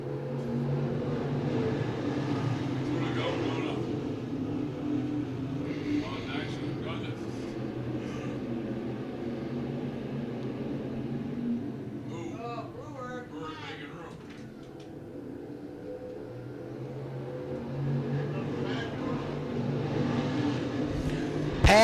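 Race cars at Penn Can Speedway roar off turn four under a track announcer's continuous commentary, the engine noise a steady, moderately distant drone with a brief dip and then a build as the pack passes.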